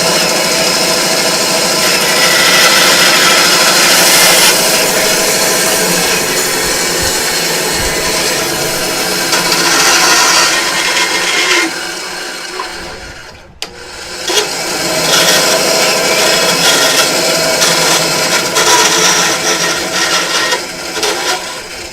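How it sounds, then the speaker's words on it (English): A bandsaw cuts through a carved spoon pendant, a loud, continuous rasping whine that drops out briefly near the middle as the blade pauses, then resumes cutting steadily. "I'm just going to do it in the bandsaw just because it's a lot faster."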